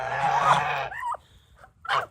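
A pet turkey gives short, close clucking and gobbling calls: a longer burst, a brief warbling note, then one more quick call after a pause.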